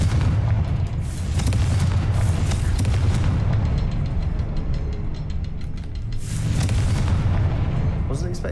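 Heavy booming blasts from a Confringo fire spell in the Hogwarts Legacy game, loud rumbling bursts filling the clip with a second surge near the end, over continuous low game rumble.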